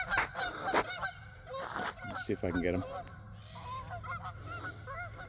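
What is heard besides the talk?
Canada geese honking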